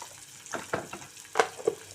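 Onions frying in a pan for a drumstick and tomato curry, a low sizzle broken by a few quick stirring scrapes and clinks, close and quiet with no one speaking.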